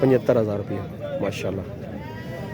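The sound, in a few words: goat bleating at a livestock market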